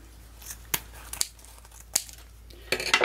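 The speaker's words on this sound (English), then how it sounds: "what I'm going to do is estimate the center and cut the loops" Scissors snip through ribbon loops of a gift bow in a few sharp, separate cuts, close by and clear against a quiet room.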